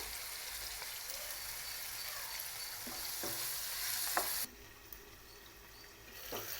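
Bottle gourd pieces fry in a pan with turmeric, giving a steady, even sizzle with a few soft stirring knocks, then dropping abruptly to a quieter simmering hiss.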